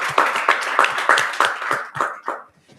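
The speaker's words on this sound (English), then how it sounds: "Can we give Ms. Zama Ngobo another round of applause?" A conference audience at a construction law masterclass gives a short round of applause, loud, rhythmic clapping with a few accented beats that tapers off and fades after about two and a half seconds.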